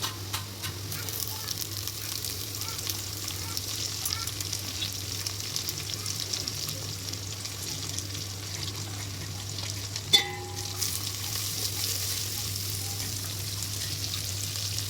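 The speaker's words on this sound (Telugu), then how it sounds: "ఆనియన్స్ వేగాక పుదీనా, కొత్తిమీర వేసుకుందాం." Mint and coriander fry with onions in a pot for Telangana bagara rice, giving a steady, close sizzle of hot oil throughout, with one brief clink of a spoon partway through.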